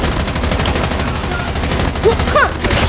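Rapid gunfire from a video game rattles in a dense, continuous stream of close shots that runs through the whole stretch without a break.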